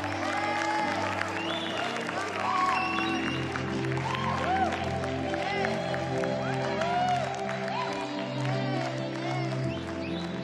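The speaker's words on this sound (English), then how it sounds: "Come on, why don't you give them a bigger applause?" A church congregation claps and cheers for people being baptized, a dense sustained applause mixed with whoops and steady music, with voices calling out over the crowd throughout.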